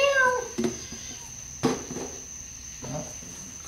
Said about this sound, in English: the cat's cruising through